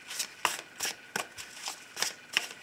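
Tarot cards shuffled by hand, a quick series of about seven soft, crisp riffling flicks in an even rhythm, close and fairly quiet with no other sounds.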